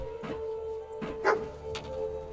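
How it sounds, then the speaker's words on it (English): The dog companion Dogmeat in Fallout 4 gives a few short excited yips and whimpers, quiet and close, over a faint steady game hum. "What are you so excited about, boy?"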